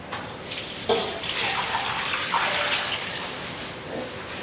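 Hot water pours steadily into a cooking pot of braising oxtails with bay leaves, a close, continuous rushing splash lasting several seconds without a break.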